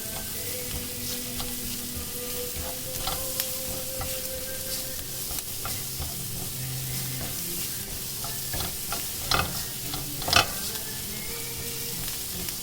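Garlic sizzles steadily in butter, a continuous close crackle with occasional stirring scrapes and two sharper clinks near the end, no voices, as the whole bulb's worth of cloves browns quickly toward golden.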